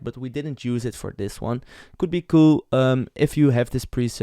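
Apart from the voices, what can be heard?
No everyday noises stand out.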